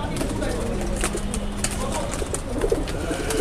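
Old-breed pigeons cooing inside a loft in Tongi, soft repeated coos under someone talking, with a steady low hum and occasional rustles from the birds.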